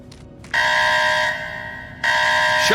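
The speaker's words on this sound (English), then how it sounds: "Shut the alarm off, Doyle!" An electronic security alarm from the Secret Service video game blares in a harsh, steady buzzing tone. It cuts off briefly, then resumes loud with no voices over it.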